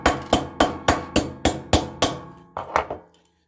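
A hammer strikes magnets into a soft 3D printed plastic grid, eight sharp evenly spaced whacks followed by a pause and three quicker, slightly lighter blows, close and loud with no talking.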